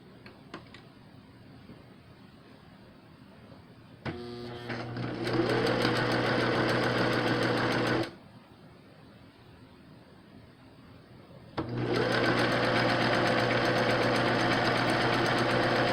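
A sewing machine stitches across the top and bottom of a fabric face mask in two steady, whirring bursts of about four seconds each, separated by a quiet pause, close up with no talking.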